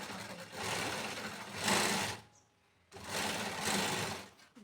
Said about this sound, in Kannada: ಈ ಥರ ನೀಟಾಗಿ ಎರಡನ್ನೂ ಜೋಡಿಸ್ತಾ ಸ್ಟಿಚ್ ಮಾಡಬೇಕು